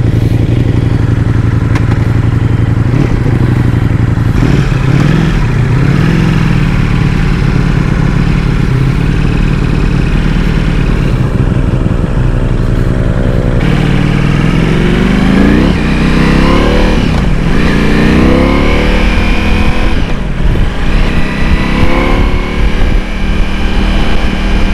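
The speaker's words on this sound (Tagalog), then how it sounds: "First ride of the Ducati Multistrada Pikes Peak." A Ducati Multistrada Pikes Peak motorcycle engine runs steadily and loud throughout a first test ride, with its tone rising and falling as the rider revs and accelerates along a loop road.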